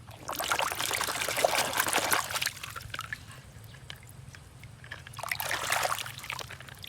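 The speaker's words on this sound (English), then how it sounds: "I have to put some water first" Water pours and splashes in two bursts, close and fairly loud, with a quieter gap of trickling between them.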